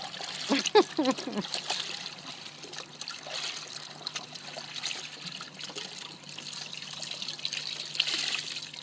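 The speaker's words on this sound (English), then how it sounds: "Something tell me Maya is enjoying the water" A child splashes and sloshes water while washing clothes during a household laundry session, a steady wet churning with a few sharper splashes, with voices talking early on.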